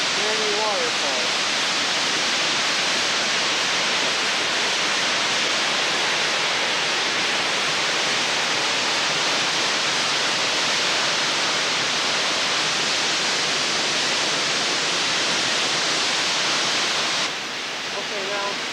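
Coca Falls, a waterfall in the El Yunque rainforest of Puerto Rico, gives a steady, loud, close roar of falling water that holds unbroken throughout, easing slightly near the end.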